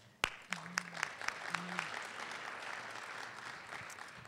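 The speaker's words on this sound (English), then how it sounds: "Let's give her a round of applause." Faint, somewhat distant applause from the audience at a briefing session, with scattered claps that build into steady clapping and a few voices early on.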